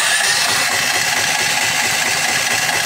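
A Firman H07552 generator engine converted to natural gas runs with the choke on, a steady, loud mid-pitched drone with a fine rough vibration and no pauses.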